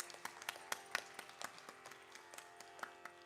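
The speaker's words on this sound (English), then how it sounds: "Another round of applause for Divya," Audience at a Bharatanatyam Arangetram dance recital applauding with scattered, uneven claps that stay moderately faint, some sharper hits standing out, with no voices.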